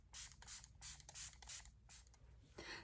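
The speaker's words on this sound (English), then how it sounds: "Let's use our setting spray." Makeup setting spray misted in a rapid series of short bursts, roughly six or seven quick hissing pumps close to the microphone, with brief gaps between them and no talking.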